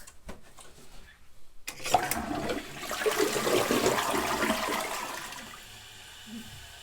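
A toilet with a freshly cleared siphon flushes again: a sudden loud rush of water starts about two seconds in, runs strongly for several seconds, then fades to a gentle trickle as the bowl refills.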